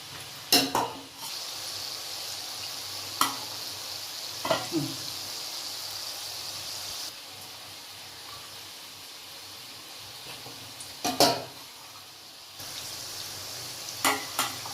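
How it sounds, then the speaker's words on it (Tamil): Murukku frying in hot oil, a steady close hiss of sizzling with occasional sharp metallic clinks and taps from utensils against the pan. The sizzle dips quieter midway and then returns. "இந்த எண்ணெய்க்கு ஒரு 5 முறுக்கு வரைக்கும் போடலாம்"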